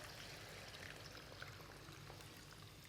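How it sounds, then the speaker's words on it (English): Water poured over a caramelised stewed onion, chilli and sweet chilli broth in a pan, a faint steady rushing pour with light trickling, continuous and unbroken, with no talk. "so I'm going to pour some water over the top"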